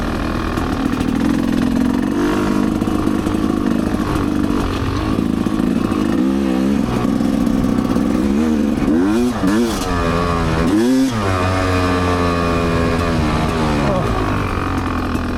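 A Rieju MRPro 300 motorcycle engine on a trail ride, loud and close throughout, with sustained revving that rises and falls as the rider works the throttle, and someone speaking over the engine noise.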